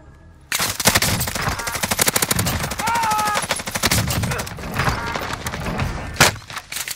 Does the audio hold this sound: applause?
no